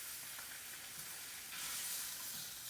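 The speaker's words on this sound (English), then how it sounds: "Flipping my bacon over." Bacon sizzling in a pan while kale is sautéed, a steady hissing crackle with bursts of sharper spattering, close up and with no voices.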